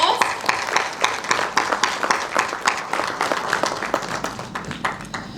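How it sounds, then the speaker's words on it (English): An audience at a university conference applauds with a rhythmic round of clapping, the claps falling into a regular pulsing beat that holds steadily and fades slightly toward the end. "Please welcome this gentleman with a round of applause."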